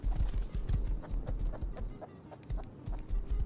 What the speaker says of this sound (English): I found a horse